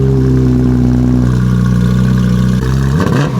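A car engine from a collection of expensive cars revs loud and close, holding a steady droning note before the revs shift and drop near the end, with no voices.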